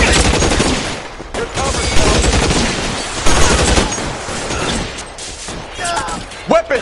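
Heavy gunfire in the video game L.A. Noire, dense overlapping shots and rattling volleys with a voice shouting over the shooting.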